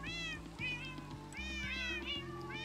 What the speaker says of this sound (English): we should be looking at least one of every cat variant right here in this shot